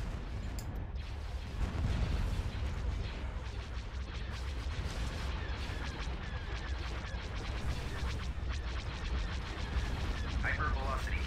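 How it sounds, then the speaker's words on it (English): Hypervelocity cannon blasts and starship weapons fire in a Star Wars space strategy game, a dense continuous barrage of booming shots and mechanical rumble with scattered sharp cracks throughout. "Hypervelocity cannon firing."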